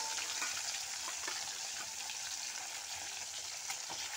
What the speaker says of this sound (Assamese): এতিয়া তেল গৰম হ'লে মাছ 3 পিচ ভাজি কৰি ল'ম।